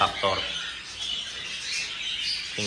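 Pet birds in flight cages chirping and squawking in short bright bursts close by, with a person talking over them.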